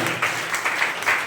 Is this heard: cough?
no